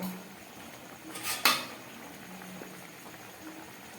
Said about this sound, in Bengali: গ্যাসটাকে কমিয়ে দিচ্ছি, একটা ঢাকা দিয়ে দিলাম।